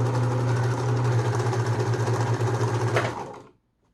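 A Husqvarna Viking 190 sewing machine stitches a wide zigzag, its steady, fast mechanical whir and rhythmic needle chatter running close and loud for about three seconds before it winds down and stops.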